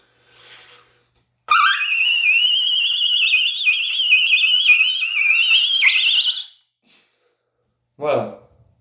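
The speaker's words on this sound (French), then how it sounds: "Le triut, c'est un sifflement." A powerful mouth whistle called the triut rings out as one long, piercing, wavering tone for about five seconds, loud and close, followed by a short breath.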